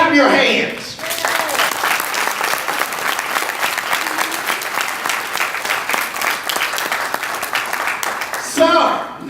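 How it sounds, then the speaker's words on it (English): A university lecture audience claps their hands together in a loud, dense burst lasting about eight seconds, framed by a speaker's voice at the beginning and end. "please clap your hands."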